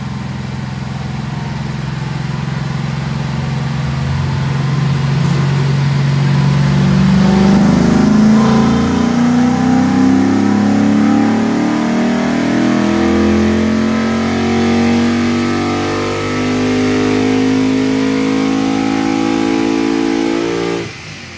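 A modified 2019 Dodge Charger Scat Pack with a 392 V8, aftermarket intake, headers and tube, roars through a loud dyno pull, pitch climbing steadily as it revs up, holding near the top, then cutting off abruptly at the end.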